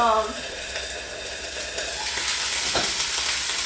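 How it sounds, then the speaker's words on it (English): Steady, close sizzling of chicken frying in olive oil in a hot pan, a constant crackling hiss that stays loud throughout. "I am pan frying some chicken right now."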